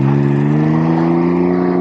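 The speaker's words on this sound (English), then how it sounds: "Okay, you just give it a little gas and she goes." A Can-Am Ryker three-wheeler gets a little throttle, its engine holding a strong, steady harmonic drone close by with a slight upward pull, loud and continuous with no talking.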